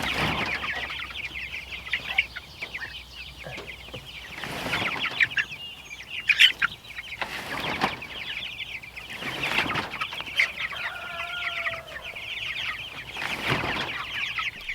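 Chickens clucking and murmuring at close range, with scattered short calls over steady outdoor background noise and a few louder bursts.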